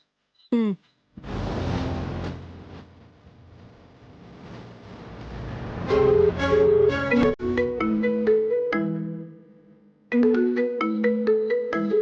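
A phone ringtone plays in a Telugu TV serial scene, a melodic tune that starts after a brief tone and runs in repeated phrases, pausing once before resuming, with no voices over it.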